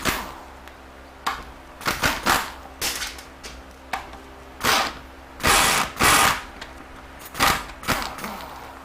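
Ratchet and socket working loose the bolts on an A727 TorqueFlite transmission during a rebuild, heard as irregular bursts of sharp metallic clicking separated by pauses, close and fairly loud.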